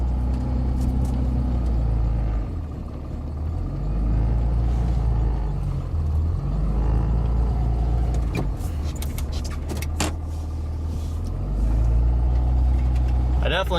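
A common rail diesel truck with a suspected bad carrier bearing rumbles up close while backing up and turning around, engine pitch rising and falling with the maneuver and a voice talking over it.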